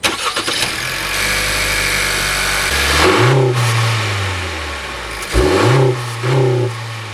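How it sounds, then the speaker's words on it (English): A Honda CR-V engine cranks and starts, idles, then revs up twice in short bursts, loud and close. "now we'll have a listen to the engine"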